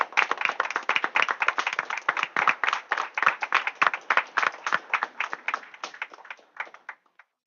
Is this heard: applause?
yes